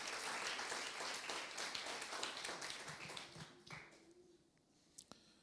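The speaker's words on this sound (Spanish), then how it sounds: "Denle un aplauso" A church congregation claps during a sermon, a dense, steady applause that thins and fades after a few seconds, followed by a couple of scattered taps in the quiet.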